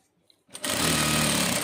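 A sewing machine stitches a waist seam, starting after a brief quiet pause and then running in a loud, fast, steady rattling buzz close by.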